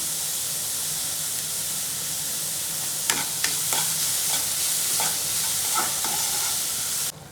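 Food frying in a pan with salt added, a steady close sizzle that turns into a run of spatula scrapes and clatters in the second half before cutting off abruptly; no one speaks.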